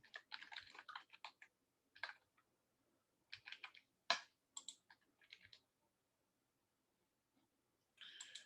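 Typing on a computer keyboard comes through as quick, close bursts of key clicks in irregular runs, separated by short pauses and a longer silent stretch before a final flurry.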